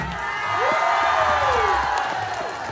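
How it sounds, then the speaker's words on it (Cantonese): A large crowd at a music video awards ceremony cheers and applauds loudly for dancers, with whoops and a steady wash of clapping throughout. "希望大家俾上熱烈嘅掌聲，我班 dancer 得唔得？"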